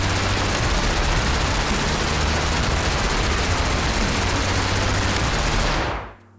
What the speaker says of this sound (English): this is the Enclave armor, and this is a laser minigun